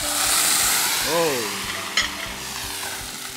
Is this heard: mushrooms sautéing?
yes